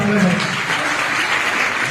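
Applause from an audience at a gathering, dense and steady clapping throughout at close range, with a brief murmur of voices at the start.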